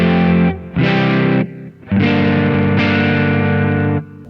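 Distorted electric guitar through a Kemper Profiler amp modeler with more bass let into the distortion stage, loud sustained chords in several separate strums with short gaps, thick and muddy in the low end.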